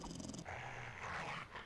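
A dog growls in the 7 Days to Die video game, a low, continuous rumbling snarl lasting the whole short moment, close and fairly loud with no talk over it.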